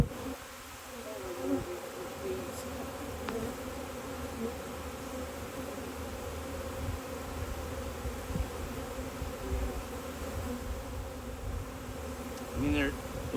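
A honey bee swarm in the early morning fills the air with a steady, dense buzz, with individual bees droning close past now and then over the continuous hum.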